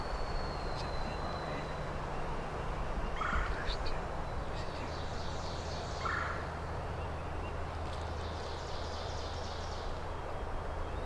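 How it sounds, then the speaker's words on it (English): Wild turkey gobblers during a spring hunt, gobbling twice at a moderate distance in open woods over a steady low background hum. "We gave the Gobbler some time, and it wasn't an hour later, and they were working their way back to us, and me and Carl were set up and ready"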